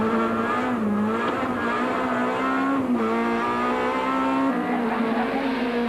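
A rally car at the 2003 Cape Rally drives hard with a loud, sustained engine note close by, pitch wavering as the driver pushes on the tyres, with no talk over it.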